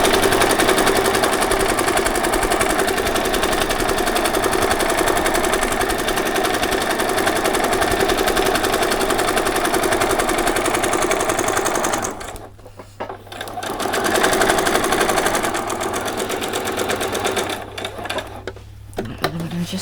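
A sewing machine runs steadily while it stitches two straight rows of gathering stitches for a Christmas party dress. The whirring motor is close and loud. It stops briefly about two-thirds of the way through, then starts again for short bursts.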